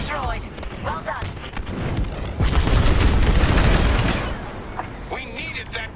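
A broadcast dish blows up in the Star Wars: Squadrons game, a loud booming explosion bursting midway and rumbling for over a second, with game voices and radio chatter around it.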